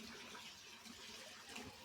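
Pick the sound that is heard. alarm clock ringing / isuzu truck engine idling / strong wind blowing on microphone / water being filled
water being filled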